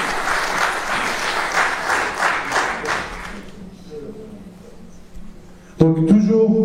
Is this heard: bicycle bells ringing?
no